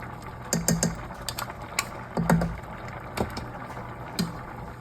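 Scissors snip repeatedly through cooked broccoli, a series of close, crisp clicks and cuts at an uneven pace.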